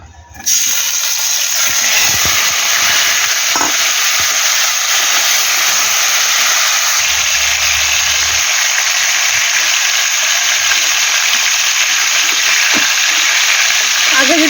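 A kitchen pan rinsed under a running tap, a loud continuous hiss of flowing water close to the microphone, with a few faint knocks underneath.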